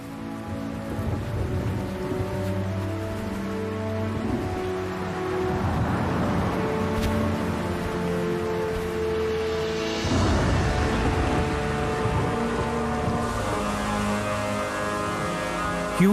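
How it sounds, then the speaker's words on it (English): A mountain thunderstorm brings steady, heavy rain hissing over the ground without a break. Low rumbling swells come twice beneath the downpour and nobody speaks. "a mountain thunderstorm is extremely dangerous"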